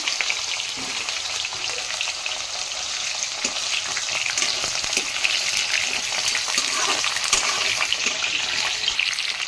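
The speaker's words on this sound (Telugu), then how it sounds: "ములక్కాయలు అయితే మంచిగా ఫ్రై అయిపోయినాయి" Drumstick (moringa) pieces fry in hot oil with mustard seeds for a masala curry, a steady bright sizzle with occasional crackles and light stirring, close and continuous without voices.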